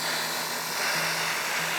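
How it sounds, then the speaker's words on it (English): An airbrush fed by a compressor hisses out a continuous bright rush of air, steady and close, with a faint low motor hum beneath. "I probably should turn down the amount of air coming out on the compressor."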